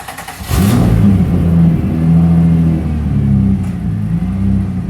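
A freshly finished Oldsmobile with a swapped-in Turbo 3800 engine, manual transmission and custom air ride rolls out of a garage for the first time, its engine revving loud and close in a steady throaty rumble.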